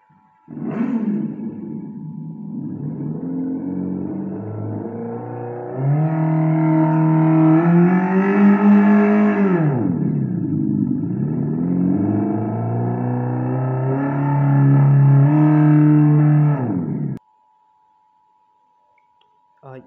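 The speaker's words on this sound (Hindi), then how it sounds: "ये इस बाइक की पहली साउंड है, जो स्लॉट 1 रिवॉल्ट के नाम से।" Revolt RV400 electric bike playing its simulated engine sound in Revolt mode, a loud synthetic motor drone that swells in two long revving rises and falls before cutting off abruptly.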